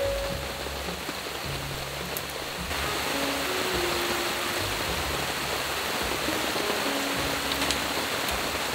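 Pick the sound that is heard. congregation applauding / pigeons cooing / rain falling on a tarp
rain falling on a tarp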